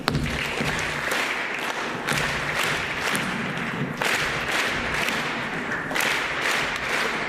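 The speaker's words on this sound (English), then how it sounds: "try to clap the rhythm of the ball." An audience in a hall claps together at an academic-year opening event, sustained dense clapping with periodic louder surges roughly every second or so as they follow a beat, loud and fairly close.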